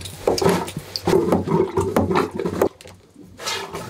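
A hand-operated pump toilet aboard a boat works in a run of repeated gurgling, sloshing strokes at close range, then pauses briefly before a softer flush of water trickles through the bowl. No one speaks.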